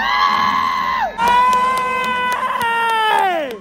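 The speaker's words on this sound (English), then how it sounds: "you're cheering for your country, you're booing the enemies" Audience at the Excalibur dinner show in Las Vegas yelling and cheering loudly, a dense wall of voices with high wavering shouts that break off briefly after a second, then swell again.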